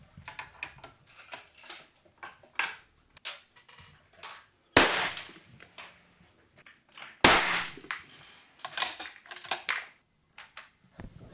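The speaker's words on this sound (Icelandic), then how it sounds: "Commence firing." Rifle shots at a benchrest shooting championship for 100 and 200 m groups in Iceland: two sharp, loud cracks stand out amid a steady patter of clicks and small knocks, with no talk.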